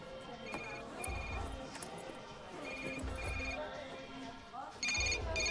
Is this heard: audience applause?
no